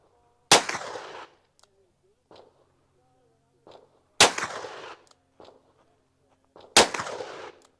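Three sharp, loud revolver shots from a Colt Python firing Fiocchi 142-grain and PMC 158-grain rounds, spaced a few seconds apart, each with a short ringing tail and quiet gaps between.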